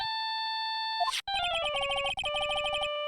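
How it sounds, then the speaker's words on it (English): A bright electronic phone ringtone from the video game Phoenix Wright: Ace Attorney Trilogy plays a rapid, repeating melody of beeps, pausing briefly before continuing in a busier pattern; no voices. "And I bet it was this ringtone that caused it."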